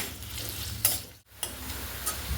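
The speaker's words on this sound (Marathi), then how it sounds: "हे आता कांदे आपण चांगले लाल होईपर्यंत तळून घेऊयात" Two large chopped onions fry in a pan until reddish-brown. The crackle is close and steady, with a couple of sharp scraping stir strokes and a brief lull partway through.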